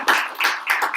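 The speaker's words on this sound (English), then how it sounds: "give a clap to yourselves" An audience at an anniversary celebration of a Vedanta society claps together, with a few bright bursts of applause rising and falling close by over about a second.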